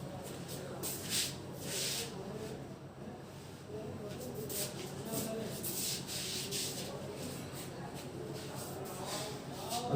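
A board eraser rubs chalk or marker writing off a classroom board during a Class 10 maths lesson, making steady, close scraping strokes that continue for the whole stretch, with a faint voice in the background.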